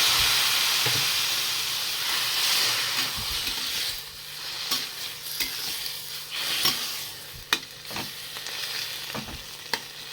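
Chopped tomatoes hit hot oil in a pan with a loud, hissing sizzle that gradually settles into softer frying crackles and scattered stirring clicks.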